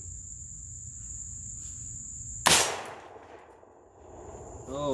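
A single sharp gunshot fired outdoors at a carbon steel target cracks loudly mid-clip and rings briefly into silence, with crickets chirping steadily in the background before and after.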